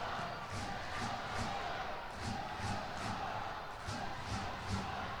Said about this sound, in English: The crowd really feeling it here tonight.